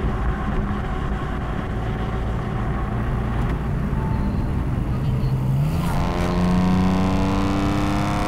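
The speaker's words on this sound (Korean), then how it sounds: "그냥 6기통에 애프터마켓 머플러를 장착한 차의 사운드는 이렇다" BMW M4 with a six-cylinder engine and aftermarket Akrapovic exhaust accelerating hard, a loud steady roar whose pitch climbs through the revs and then shifts with a gear change.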